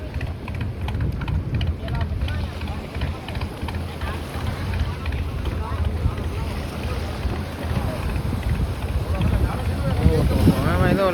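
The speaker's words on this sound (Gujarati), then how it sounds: "મશીન મિત્રો ફાઇનલી બસ ચાલુ થઈ ગયું છે." A fishing boat engine runs steadily at sea, a continuous low rumble mixed with wind buffeting the microphone and water wash, with someone talking over it throughout.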